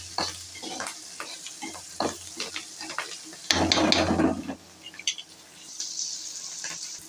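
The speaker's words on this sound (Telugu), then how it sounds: "మిరపకాయలు అయితే ఇట్లా గోలినాయి." Red chillies fry in hot oil in a pan for atukulu mixture, a continuous bright sizzle with stirring scrapes, swelling louder midway as the spoon moves through the pan.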